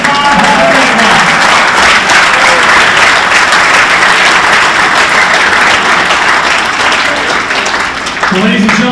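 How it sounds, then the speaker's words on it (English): Sustained, loud applause from an evening audience honoring the 2025 St. Joseph Area Sports Hall of Fame class at its induction ceremony, dense and steady for the whole stretch, with a few voices and a short swell of talk near the end. "how about one more big round of applause for our 2025 Hall of Fame class"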